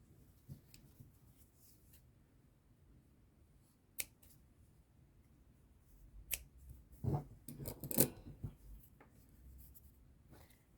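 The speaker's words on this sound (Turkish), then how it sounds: "İki ucu düğümleyip keseceğim." Scissors snip knotted yarn ends on an amigurumi newborn doll, a few sharp close clicks and crisp cuts clustered after quiet handling, with no talk.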